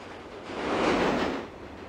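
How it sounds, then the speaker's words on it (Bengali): A train passing on a track in the horror video game Ice Cream 3, its rumble swelling to a peak mid-way and fading again, heard alone. "ট্রেনটা লাইন বদল করে অন্য সাইড দিয়ে চলে গেল।"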